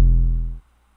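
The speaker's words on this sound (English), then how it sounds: "So if you hear my 808" A single short 808 bass note made in FL Studio, a deep, booming sub-bass hit with a sharp attack that sustains briefly and then stops abruptly, leaving silence.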